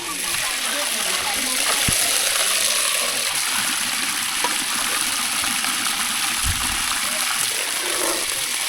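Water rushes steadily in a strong, constant gush with a hissing spray, while faint voices and occasional knocks sound in the background.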